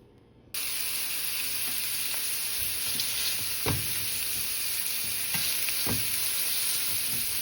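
Meatballs frying in a pan on a stovetop, a loud, continuous sizzling hiss punctuated by a few soft knocks as pieces are turned one by one.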